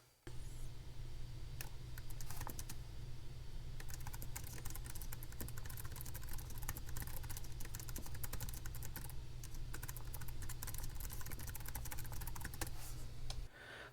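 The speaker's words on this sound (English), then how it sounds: "it has kind of a clicky sound to it. So let me try and get you some audio." Clicky keys on a Raspberry Pi 400 compact keyboard typed steadily and close for about thirteen seconds, a dense, continuous patter of keystrokes with no talking.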